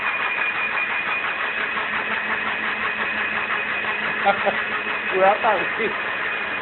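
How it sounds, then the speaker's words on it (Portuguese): A household blender whirs steadily, mixing a milk smoothie, with its motor hum running throughout while people talk and laugh over it nearby. "pra ver a batedeira muito doida"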